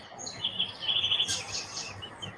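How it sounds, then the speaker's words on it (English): Birds chirp and tweet steadily at moderate loudness, with high, thin calls running through the whole stretch and no talk. "Got the birds chirping."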